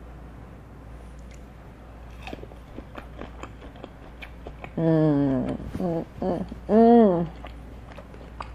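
Biting into crunchy fried shrimp with yum yum sauce: close crunchy chews and clicks, then a voice makes drawn-out sounds of enjoyment over the chewing.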